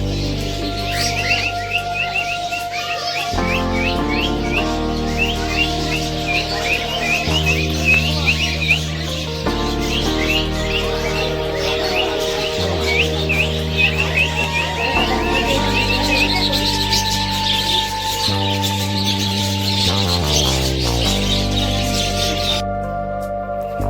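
Various birds chirp and tweet at Indroda Nature Park in a busy, continuous chorus of rapid calls, moderately near, layered over steady background music with sustained tones for the full stretch.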